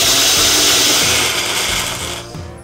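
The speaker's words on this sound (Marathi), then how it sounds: "झाकण लावायचं आणि याची छान अशी बारीक पूड करू." A kitchen mixer grinder whirs loudly and continuously as it grinds roasted fenugreek, wheat, salt and turmeric into powder. The motor hum pulses with a slight rhythm and fades off at the end.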